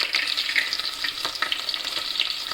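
Chopped onions fry in a pan with a close, steady sizzle and crackle and occasional stirring scrapes; no one speaks.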